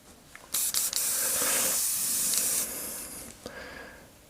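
A steady, hissing spray of air and paint from an airbrush clearing dried paint from its tip, starting with a few short bursts, then a long continuous blast that tapers off.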